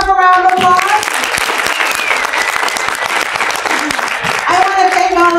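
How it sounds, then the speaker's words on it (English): Audience applause at a business women's event, loud and sustained clapping from a crowd for several seconds, with a voice speaking over it at the start and end. "Give yourself a round of applause."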